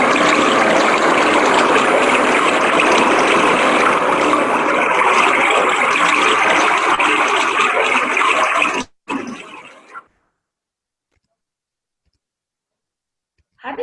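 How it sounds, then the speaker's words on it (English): Continuous rush of flowing water, fairly loud and steady for several seconds, then cutting off abruptly into silence. "they also listen to the sound of flowing water"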